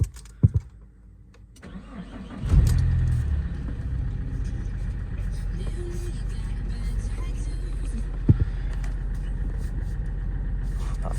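A Vauxhall Astra H engine cranks and fires up after a couple of clicks, then settles into a steady, close idle that runs on with a brief knock partway through.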